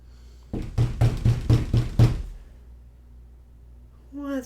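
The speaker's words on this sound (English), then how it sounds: "Who would be knocking on my door at this hour?" Knocking on a door, six firm, evenly spaced raps close by, followed by quiet and then a brief, faint voice.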